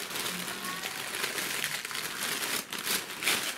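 Dry crinkling and rustling of red gift wrapping paper being handled and pulled open, close up, with soft irregular crackles throughout and no talking.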